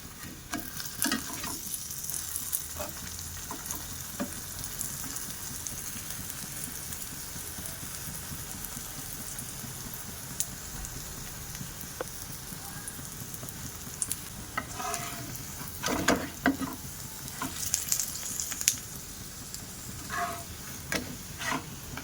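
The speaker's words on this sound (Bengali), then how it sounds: "দেখো উল্টে পাল্টে পরোটাটা ভাজা করে নিচ্ছি" Papad-stuffed paratha frying in a little oil in a pan, a steady close sizzle lasting throughout with occasional scraping and clatter as it is flipped and turned.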